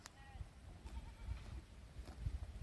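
Sheep and goats of a nomadic herding camp, gathered near tents at nightfall, bleat faintly a few times over steady outdoor noise and low rumble.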